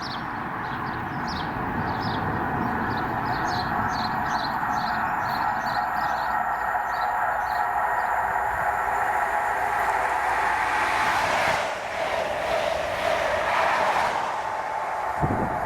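A ScotRail HST led by power cars 43033 and 43134 passes at Monifeith, a long steady rumble with rail clatter and a rising roar toward the end, birds chirping faintly in the background.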